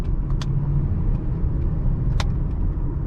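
A 2011 Chevrolet Camaro 1LT V6 with an automatic gearbox in manual shift mode drives on the road, its engine a loud, steady, close cabin rumble with a few faint clicks over it.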